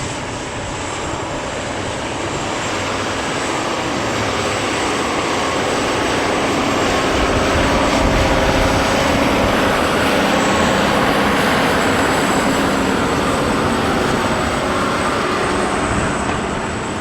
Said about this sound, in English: Tractor's still running great, everything's going well with it.